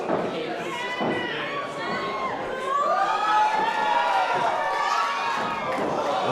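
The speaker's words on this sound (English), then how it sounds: "they're cheering for her over the hometown girl, if you can believe that" Arena crowd cheering and shouting steadily throughout a women's professional wrestling match in Vancouver, Canada, a loud continuous roar swelling midway, with a commentator talking over it.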